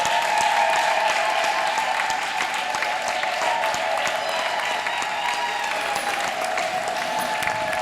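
A congregation applauds steadily at a pastor's ordination ceremony, with dense, sustained clapping from a crowd that stays loud and even throughout.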